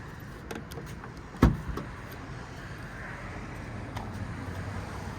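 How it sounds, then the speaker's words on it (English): A single sharp thunk of a 2022 BMW i4 M50 hatchback lid unlatching, followed by a faint rattle, over a steady low outdoor hum. "So if we open the trunk"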